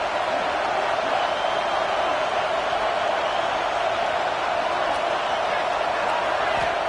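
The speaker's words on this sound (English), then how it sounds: "This crowd bringing the energy and noise early." Steady, dense roar of a large stadium crowd at a simulated football game, loud and continuous throughout with no pauses, like a broad wash of cheering and chatter.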